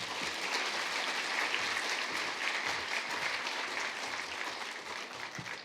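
A church congregation at a Korean Sunday service applauds to welcome a visiting missionary, producing sustained, dense clapping from a large crowd that fades slightly toward the end.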